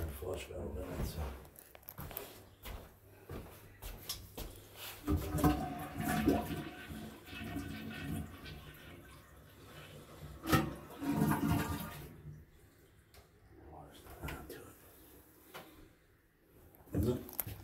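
A toilet flush valve with water running through the tank and bowl, a rushing, gurgling flow that swells and fades in several surges while someone talks over parts of it.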